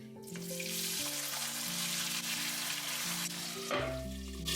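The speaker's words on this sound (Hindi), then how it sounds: "सरसों का तेल ले लिया है, गरम हो गया। इसमें थोड़ा सा जीरा ऐड किया है, हींग, पहले आलू ऐड कर दिया है।" Potatoes frying in hot mustard oil with cumin and asafoetida, a loud, constant close-up sizzle with occasional stirring clatter, and a brief shift in tone near the end, with no voices.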